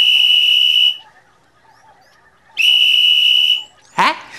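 A voice imitates a whistle with two sustained, shrill high-pitched tones separated by a pause, loud and close, followed by a brief sharp burst of vocal sound at the end.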